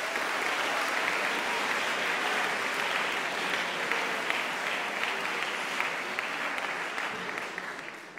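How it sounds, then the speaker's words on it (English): Dense, steady applause from a school audience in a hall after a house music ensemble performance, a sustained wash of many hands clapping at even loudness that tapers slightly at the end, with no voices over it. "So I think we should give them a round of applause."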